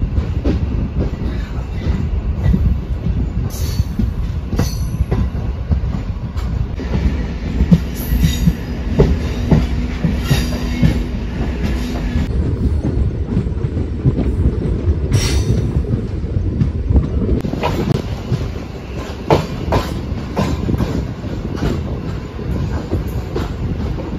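Konkan Railway MEMU train running between Panvel and Ratnagiri, a steady loud rumble of wheels and carriages with rail clatter and brief squeals, heard close from inside the train throughout with no talk.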